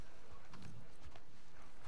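Horse hooves clip-clop in The Last of Us Part II, a few close, uneven steps over a steady background noise.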